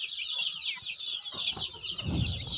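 Dwarf-breed hens clucking near young chicks about a week old in a brooder, a steady stream of high chirping and clucking throughout with a louder flurry toward the end, close by.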